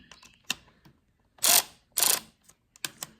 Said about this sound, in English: I'm using my ratchet because I don't want to put too much torque on these